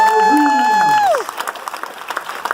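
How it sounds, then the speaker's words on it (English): A crowd applauds aboard the Carnival Dream cruise ship during a veterans ceremony. A man's drawn-out voice comes first, then a steady wash of clapping fills the rest. "Big round of applause one more time"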